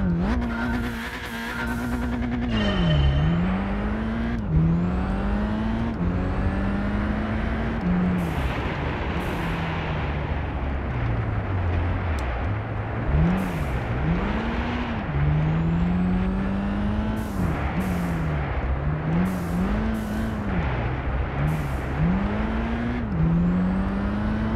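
Race car in Gran Turismo 5 driving hard on track, loud continuous engine note rising and falling through repeated braking and gear changes, with tire squeal and skidding bursts, no talk.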